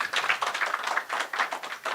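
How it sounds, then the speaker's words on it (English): An audience gives a round of applause for students at a stakeholder engagement forum, with dense, close clapping in rhythmic waves. "I think they deserve a better round of applause."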